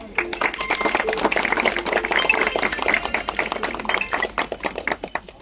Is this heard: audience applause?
yes